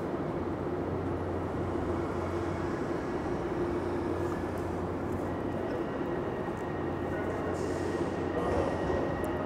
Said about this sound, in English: Oh, there's a train coming.